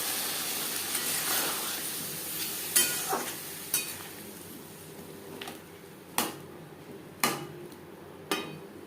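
Spiced oil sizzles in a pan for a snakehead (shol) fish curry with bottle gourd stems, cooked without garlic or onion. A steady close hiss runs throughout as it is stirred, broken by several sharp scraping clicks.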